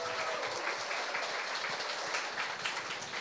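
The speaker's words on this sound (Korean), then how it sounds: "자연스럽게 박수가" Audience applause at a book talk in Busan, a steady roomful of clapping heard at moderate distance, even and sustained with no voices over it.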